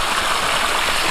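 River water gushes powerfully through a double siphon pipe, a loud, dense, steady rushing roar that fills the whole moment with no voices.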